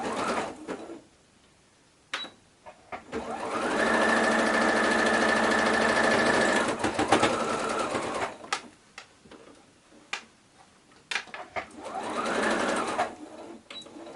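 A sewing machine stitches shirt scrap fabric for a quilted tote, running in a steady loud burst of a few seconds, then in shorter intermittent runs, with quiet pauses between.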